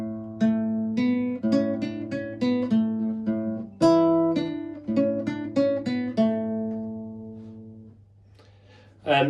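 Classical guitar plays bars 17 to 20 of Gaspar Sanz's Paradetas, a plucked phrase of clear notes over a sustained low bass, close and solo, easing quieter toward the end before a final pluck.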